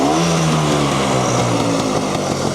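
A 1968 Vespa 150 Sprint scooter engine idling close up, a loud steady buzzing putter with slight fluctuations in pitch, running alone.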